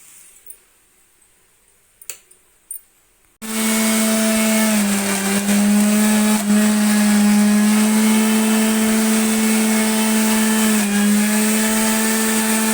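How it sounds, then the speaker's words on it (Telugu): After a quiet start with a few clicks and knocks, an electric mixer grinder blending tamarind leaf and sesame chutney roars on loudly and continuously, its steady motor whine shifting slightly in pitch. "ఇంకైతే మిక్సీకి వేసి పెట్టుకుంటాము."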